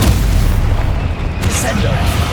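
A Bombarda blasting-spell explosion in Hogwarts Legacy: a loud, close, booming blast with a heavy low rumble that settles into debris noise, and a voice speaking over it.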